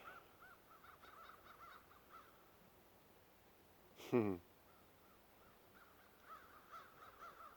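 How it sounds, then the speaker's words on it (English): Crows caw in a brief loud burst as they flock together outdoors, a cluster of harsh calls rising over a quiet background with faint distant sounds before and after. "Crows grouping together like that means something's attacking their nests."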